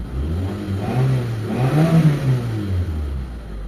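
A Mitsubishi Lancer automatic engine revving after a fuel filter change, a steady low idle rising into a moderate rev and settling back down, close and continuous with no talk.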